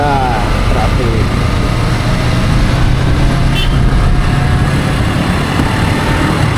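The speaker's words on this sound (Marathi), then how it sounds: "बघा बघा ट्रॅफिक" Dense Mumbai-bound road traffic of cars and trucks rumbles continuously and loudly nearby, a steady wash of engine and tyre noise with a faint brief horn.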